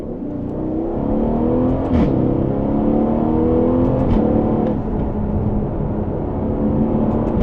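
Mercedes-AMG GT or Aston Martin Vantage pulling out to overtake on the road, its engine droning steadily and climbing in pitch as it accelerates, with two distinct gear-change dips, all from inside the cabin.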